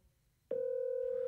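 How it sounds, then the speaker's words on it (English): A Zoiper softphone rings for an incoming SIPp test call routed through Asterisk: a steady electronic ring tone starts partway through and holds loud and even to the end, with no talking. "it sends call to my Asterisk and my Zoiper is ringing."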